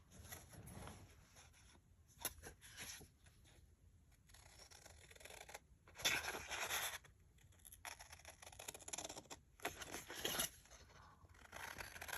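Scissors snip through scrapbook embellishments in a quiet room, a run of soft irregular cuts and paper rustles at close range with no talking.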